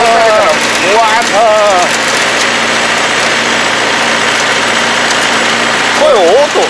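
A 2020 Yanmar AE447 rice combine harvester engine runs steadily at close range, a constant droning hum under loud nearby voices of people talking over it.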